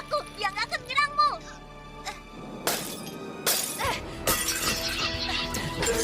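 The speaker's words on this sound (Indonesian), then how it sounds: "hancurkan kaca depan dengan palu darurat" A cartoon car windshield is smashed with an emergency hammer. After a few seconds of animated dialogue, several sharp, loud bursts of shattering glass follow in quick succession.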